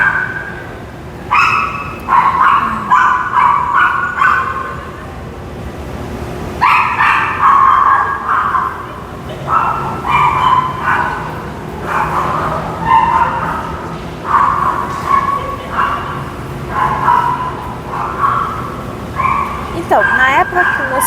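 A small dog barks inside a shopping mall. The sharp, close yaps come in quick repeated bursts through the whole stretch, with some whimpering yips among them.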